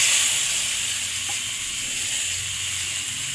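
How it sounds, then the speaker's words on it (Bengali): Chopped bottle gourd drops into a hot wok over a low-to-medium gas flame and sizzles with a steady, bright hiss that stays loud and even throughout. "এবার গ্যাসের ফ্লেমটাকে আমি লো আর মিডিয়ামে রেখে এই লাউটাকে দিয়ে দিচ্ছি।"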